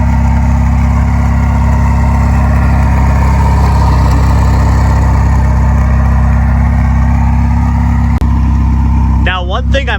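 A Ferrari 488 twin-turbo engine runs loud and close, a steady deep drone with a slight swell as the car moves off, continuous for about nine seconds before a brief squeal at the end.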